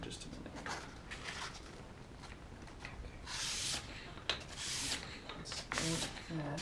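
A knife blade is drawn across 600-grit sandpaper to sharpen a secondary bevel, giving soft, repeated gritty rubbing strokes at close range, with brief pauses between passes.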